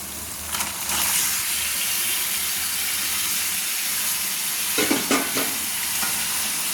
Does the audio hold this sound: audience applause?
no